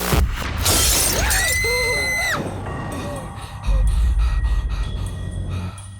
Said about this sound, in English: It exploded. It shattered into like a trillion pieces.